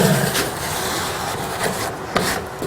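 Insulation board pressed firmly into a window reveal with excess glue wiped over it, a close continuous rubbing and scraping with a few sharper knocks, fairly loud.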